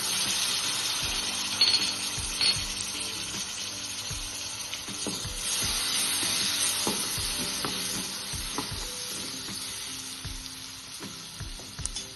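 Chopped tomatoes sautéing with spices in a pan for a fresh green pea (matar) sabzi, a steady broad sizzle with frequent light clinks and scrapes of a spoon stirring against the pan, no voices.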